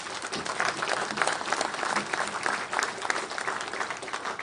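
An audience breaks into sustained, steady applause, many hands clapping together at a moderate distance for several seconds.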